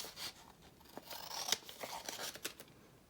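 Scissors snip and rasp through a folded paper envelope, a steady run of short close cuts with sharper clicks of the blades, quiet and without talk.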